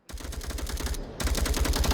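Rapid automatic gunfire from a team shooter video game pre-fires at a trash can in a dumpster area: a close, loud burst, a brief pause, then a second sustained burst of evenly spaced shots.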